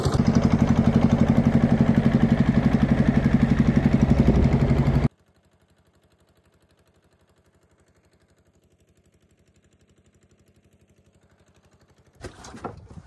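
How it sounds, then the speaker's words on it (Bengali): An inboard engine on a fishing boat runs loudly with a steady low chugging for several seconds, then cuts abruptly to a faint low hum and near silence, with a brief burst of noise at the end. "মেশিন স্টার্ট উঠে গেছে আর আমরা কিন্তু দিয়ে দিয়েছি রওনা।"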